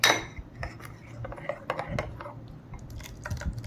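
A metal spoon clinks and scrapes against a bowl while stirring ingredients into thick curd, a series of light irregular taps and clatters up close with a faint voice in the background.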